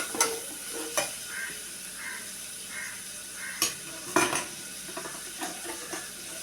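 Onions and green chilies sautéing for Ramadan nombu kanji, a steady close sizzle with regular scraping and clinking stirs of a utensil against the pot, no voices.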